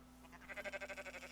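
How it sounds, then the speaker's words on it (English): A goat bleating in the Rising World video game, one wavering, pulsing bleat that trembles rapidly for about a second, faint against a low steady hum. "Yeah, says the goat."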